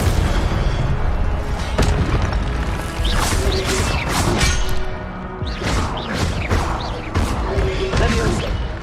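Fiery spell bursts cast again and again in Hogwarts Legacy, a series of loud whooshing blasts and crashing impacts every second or so within dense, continuous game action and effects.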